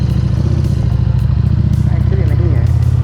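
A Harley-Davidson motorcycle labors up a rough, damaged mountain road in low gear, its steady engine drone close and continuous while a rider talks over it.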